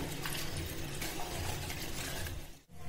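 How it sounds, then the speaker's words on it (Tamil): Water is poured into a pan of spicy kadai chicken gravy, a soft, steady liquid rush and splash heard close up and alone, breaking off abruptly near the end. "தண்ணி இந்த சிக்கன் மூழ்கிற அளவுக்கு ஊத்திக்கோங்க."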